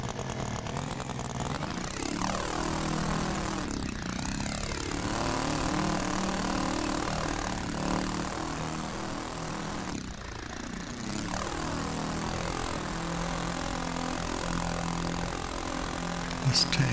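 Simulated propeller engines of a B-25 Mitchell in an RC flight simulator game hum at a loud, steady drone, with the pitch rising and falling as the plane taxis, and no voices over it.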